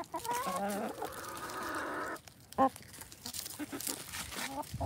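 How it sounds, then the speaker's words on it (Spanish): Chickens clucking steadily at close range as they eat leftover grape residue from homemade grape juice making, with a sustained cackling phrase at first, then scattered short clucks. "Gallinas comiendo residuos de uva."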